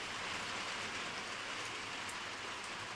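Rain and sleet falling outside a small cabin, a dense, even hiss of drops pattering on surfaces that holds steady throughout, with no voices.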